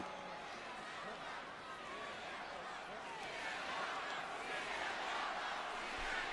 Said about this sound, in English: Crowd trying to rally against Punk